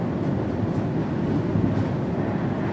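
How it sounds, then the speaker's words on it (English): Simulated train cruising along the Romford–Upminster line in Train Sim World, a steady low rumbling drone of rolling wheels and motor, continuous and fairly loud with no talk. "I'm just letting the train cruise along."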